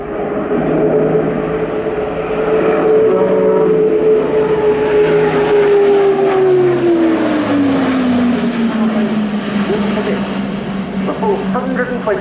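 An RAF Airbus A400M Atlas turboprop performs a display wingover at RIAT 2018, its propeller drone loud and sustained, the pitch sliding steadily downward as it passes, with a commentator talking throughout.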